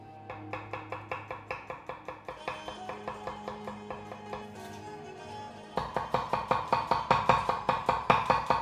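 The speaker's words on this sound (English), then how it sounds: "Peel and slice." A knife slicing garlic and shallots on a cutting board, a steady even run of crisp rhythmic chops, growing louder and sharper partway through, with no talking.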